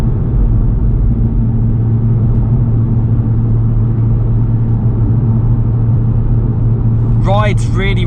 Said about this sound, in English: You can listen to the car.